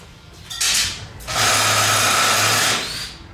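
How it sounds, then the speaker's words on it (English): A small, cheap ratchet tool clicks and whirs while working on motorcycle carburetor parts: a short burst, a pause, then a longer, louder buzzing run of rapid ratcheting, close up with no talking. "They're cheap, but they're really cool little ratchety guys."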